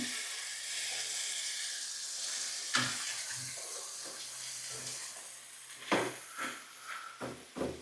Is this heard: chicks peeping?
no